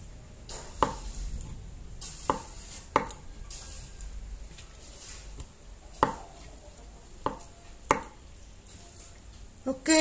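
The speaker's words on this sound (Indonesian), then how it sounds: "tahunya kita potong-potong seperti ini jadi tiga" Tofu is chopped into pieces on a cutting board, about nine sharp, distinct knife strikes spaced irregularly a second or so apart over quiet kitchen background.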